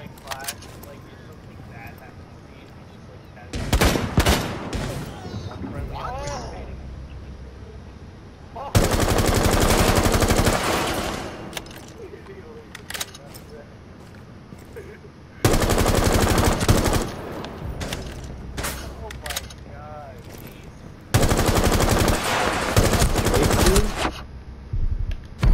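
Automatic gunfire in Rainbow Six Siege, set in a favela map, comes in several loud sustained bursts separated by quieter stretches, with a player talking in between and over the shooting.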